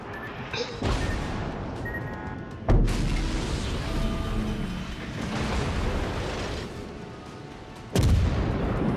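Heavy cannon fire booms from the Atago, a warship in a naval video game, with a few loud, spaced blasts and long rumbling explosions rolling between them.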